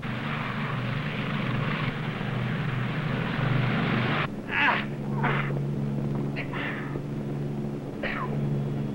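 Lockheed P2V Neptune Navy patrol aircraft engines run steadily, a loud droning rumble with a constant tone; higher whining bursts rise and fall over the drone in the second half, with no talk.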